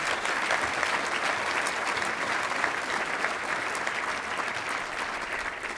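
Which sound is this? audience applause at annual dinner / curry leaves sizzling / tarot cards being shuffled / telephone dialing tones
audience applause at annual dinner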